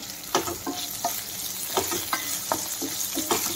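Onions fry in a pan with a constant crackling sizzle, broken by repeated clinks and scrapes of a spoon stirring at an uneven pace.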